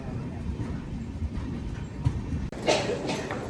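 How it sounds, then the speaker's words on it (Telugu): Tirupati–Lingampalli Narayanadri Express running steadily, a dense low rumble of wheels and carriage noise with a brief jolt near the end. "తిరుపతి లింగంపల్లి నారాయణాద్రి ఎక్స్ప్రెస్."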